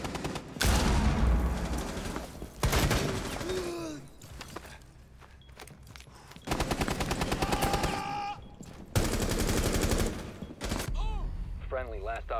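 Bursts of gunfire in the tactical shooter game Rainbow Six Siege, loud rapid volleys in several stretches with quieter gaps of footsteps and movement between, and a voice speaking over parts of it.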